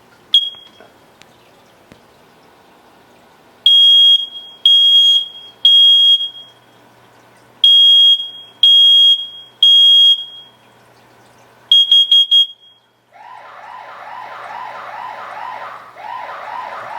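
Loud, piercing smoke alarm beeps in three-pulse bursts, repeating in sets, then switching to a rapid warbling siren tone that continues steadily.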